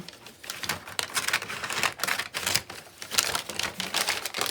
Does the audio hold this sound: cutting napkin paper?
yes